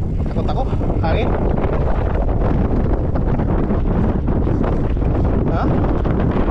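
Loud, blustery wind buffets the microphone during a ride, a constant low roar with gusting rumble and no clear voices.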